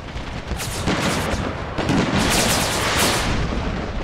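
Musket volleys and artillery fire from the video game Empire: Total War, an American Civil War mod, form a dense, continuous roar of overlapping gunshots and booms at steady loudness, with no voices.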